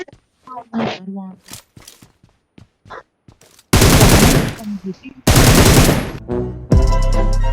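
Bursts of automatic gunfire from a shooting video game, two long loud volleys in the second half, preceded by a few scattered shots and someone speaking over the action.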